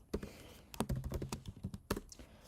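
Code being typed on a computer keyboard, with fast, irregular clusters of crisp key clicks and heavier thunks from close by, and no talking.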